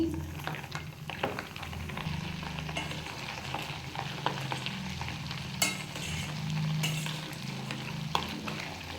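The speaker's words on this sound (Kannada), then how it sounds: "ಈಗ ಪುಡಿ ರೆಡಿ ಮಾಡ್ಕೊಂಡಿದ್ನಲ್ಲ, ಅದನ್ನ ಅದರೊಳಗಡೆ ಹಾಕ್ತಾಯಿದ್ದೀನಿ" Powder tipped into buffalo-butter ghee frying in a pan, a steady close sizzle and bubbling with occasional scrapes and clinks of stirring, no voices.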